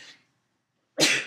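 A single sharp, close sneeze bursts out at the end after near silence, preceded by a faint breathy sound.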